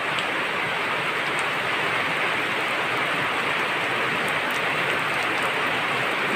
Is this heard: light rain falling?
yes